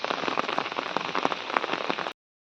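Heavy rain pours steadily onto flooded paddy fields, a dense continuous hiss with scattered louder drop splashes, close and loud throughout before cutting off abruptly.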